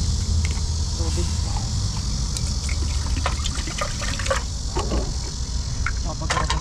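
Food is washed under running water with a steady trickling stream, a continuous close wash of water with small splashes and clinks throughout.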